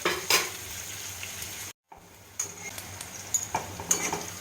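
Onions fry in a pan while a spatula stirs them, a soft continuous sizzle punctuated by repeated scraping and clinking strokes against the metal; a short silent break sits midway.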